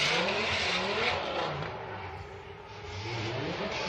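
A Formula Drift car at a New Jersey qualifying event drifts, taps the wall and re-initiates, its engine revving hard with tire squeal and skidding roar, loud and continuous throughout with pitch rising and falling.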